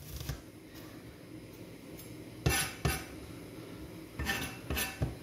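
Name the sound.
knife slicing vegetables into rings on a cutting board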